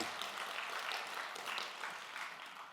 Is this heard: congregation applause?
yes